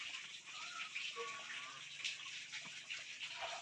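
A creek flows steadily nearby, giving a continuous bright rushing and babbling wash with faint voices murmuring now and then beneath it.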